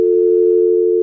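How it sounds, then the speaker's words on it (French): A home phone line interface gives a steady, unbroken electronic telephone tone that sounds loud and clean from start to finish, with no ringing cadence or voices. "la sonnerie du cellulaire à Philippe Couillard"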